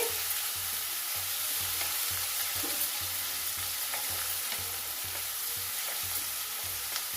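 Tomato and onion fry with turmeric in a pan for ridge gourd curry, a steady bright hissing sizzle held close and constant throughout, with faint rhythmic low thumps underneath and no talking.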